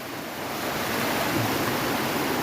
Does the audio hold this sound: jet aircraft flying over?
no